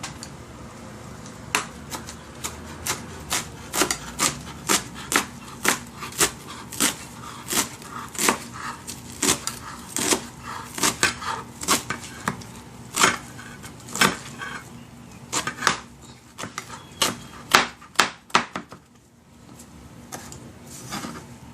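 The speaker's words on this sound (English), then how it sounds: "Rough chopped, no specific shape or form, just rough chop them." Callaloo greens roughly chopped on a cutting board, a steady run of sharp knife thuds alone at close range, fairly regular, pausing near the end.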